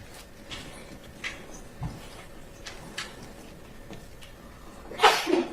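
A single short sneeze near the end of a quiet courtroom stretch, faint room tone and small bumps before it.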